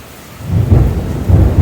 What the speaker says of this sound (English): Some cool lightning and thunder though.